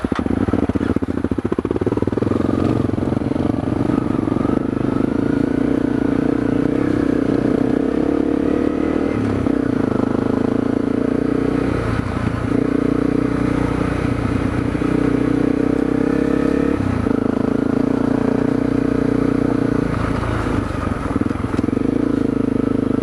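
A Honda CRF250L dual sport motorcycle rides a slick grassy trail, its engine droning loud and steady throughout with shifting throttle and small dips, close up with wind rush and no talk.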